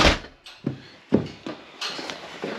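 A car door is shut in a short series of close, heavy thuds and knocks with brief pauses between them.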